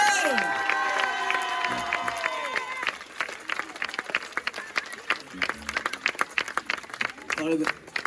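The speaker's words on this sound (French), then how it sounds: "On peut l'applaudir très fort, s'il vous plaît." A concert audience claps and cheers loudly while music rings out at the start, then dies away. The crowd keeps up a dense, lively clapping that continues until the end.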